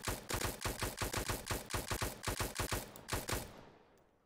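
Steady automatic gunfire from a player shooting in a raiding video game, a loud, evenly paced string of shots lasting about three seconds before trailing off into a fading tail; no talking.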